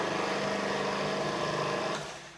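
An electric mixer or food processor whirs continuously while blending shortbread dough, a steady close motor drone with a fluttering rhythm that fades at the end.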